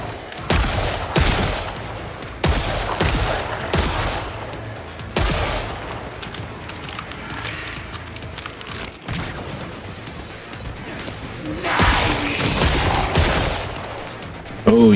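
Killing Floor 3 gunfire comes in sharp bursts of loud shots in the first few seconds, with more firing near the end and quieter game noise between the volleys.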